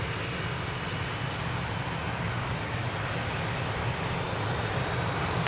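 A Ryanair airliner takes off at Lisbon Airport, a steady, even jet roar filling the whole stretch at moderate distance with no talk over it.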